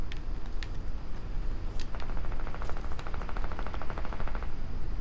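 Rapid bursts of SMG gunfire in the video game Fortnite, several short crackling volleys with a sustained rattling string near the middle, loud over steady game background noise.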